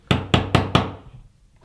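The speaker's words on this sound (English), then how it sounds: "We better knock before we go in." Four firm, evenly spaced knocks on a holiday villa's door, close and sharp, fading into a quiet room.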